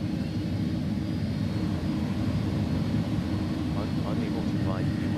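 iniBuilds A300F airliner taxiing in X-Plane 11 at a DHL freight hub, a steady loud jet-engine rumble with broad low roar and faint whine, continuous throughout with brief chirping clicks near the end.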